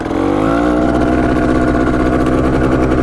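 A Yamaha Tri-Z engine runs loud and close for the whole stretch, a steady mid-pitched drone whose tone shifts slightly as it works through the gears, with no talk over it.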